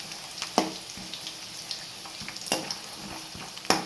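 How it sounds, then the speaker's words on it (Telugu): Handful of peanuts frying in already-hot oil in a pan, a soft steady sizzle with occasional sharper crackles and stirring scrapes, close and fairly quiet with no talking. "ఆయిల్ ఆల్రెడీ వేడిగానే ఉంటుంది కాబట్టి పల్లీలు అనేవి మనకి త్వరగానే వేగుతాయి"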